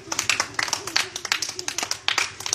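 Children clapping together on a street in Hyderabad after making up from a fight, a quick run of light scattered claps close by under an adult's voice talking over them.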